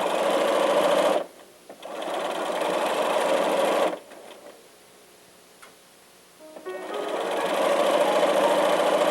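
Sewing machine stitching a quarter-inch fabric seam, a steady loud whirring hum that runs in three stretches with quiet gaps and faint ticks between them.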